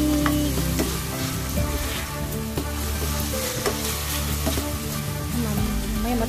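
Pork fries in a pan with a loud continuous sizzle and crackle, close up, with occasional light stirring scrapes.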